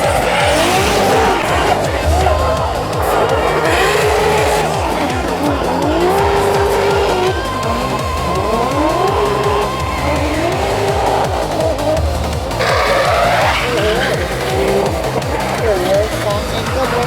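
Drift cars at Speedfest in Bangkok, loud engines revving and wailing in rising and falling sweeps with sustained tire squeal and skidding, continuous and close, with a voice talking over the din.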